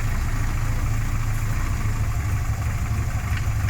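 A Mini's engine idles steadily and loudly during an ignition timing check, a continuous low rumble with no other sounds over it.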